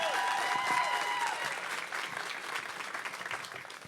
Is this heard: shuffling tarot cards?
no